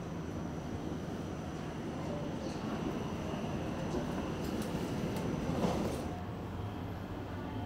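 A train running from New Chitose Airport to Otaru in Hokkaido, heard from inside the carriage as a steady, faint rolling rumble with soft rail noise throughout.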